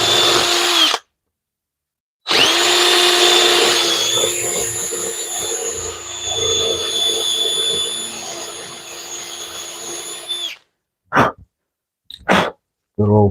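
A power drill fitted with a Forstner bit bores into material in two close, loud bursts, whining steadily before cutting off, with brief clicks and short bits of noise afterward.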